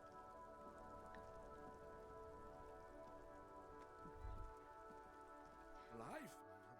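Soft, steady rain patters throughout a scene in the video game Disco Elysium, under a low sustained musical drone, with a brief swooping tone rising near the end.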